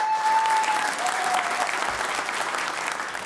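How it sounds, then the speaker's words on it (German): A hotel audience applauds the current winner of a tourism award, a full, sustained round of clapping from a crowd, with a faint tone ringing briefly at the start. "Erstmal großartigen Applaus"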